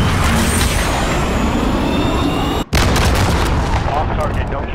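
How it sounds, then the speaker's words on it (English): Loud, dense game battlefield din from Call of Duty: Modern Warfare as a cruise missile launches and strikes, a sustained roaring rumble with a sharp cutout midway before the blast noise resumes, radio-style voices faintly mixed in. "cruise missile away"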